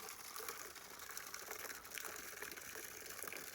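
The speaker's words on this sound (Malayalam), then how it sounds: "ഗൈസ് വെള്ളം നിറയുന്നുണ്ട്" Water gushes from a pipe into a cup, a soft, steady pouring hiss that runs unbroken and fairly faint from start to finish.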